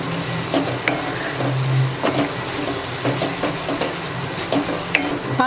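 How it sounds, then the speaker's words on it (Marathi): Chicken dum biryani masala of fried onion and red chilli powder being stirred in a hot pan, a spoon scraping and clacking in a loose rhythm over a close, continuous sizzle. "आणि आता आपल्याला मिक्स करून घ्यायचं आहे आपल्याला।"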